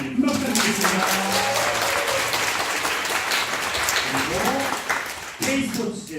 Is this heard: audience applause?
yes